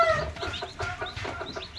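A Rhode Island Red hen clucks repeatedly up close, a steady run of short throaty clucks with no talking.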